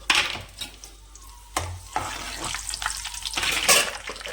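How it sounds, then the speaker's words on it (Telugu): Dried chillies hiss and crackle as they hit hot oil, a steady close-up sizzle with a few sharper bursts of frying. "నూనె కాగింది. ఎండుమిరపకాయలు వేసేస్తున్నాం."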